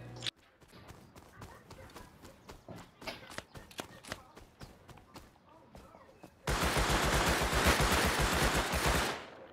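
Gunfire in the console version of the survival game Rust, with a double-barrel shotgun among the weapons: a rapid run of sharp, loud shots for several seconds, then a dense, continuous burst of firing and noise that swells louder near the end.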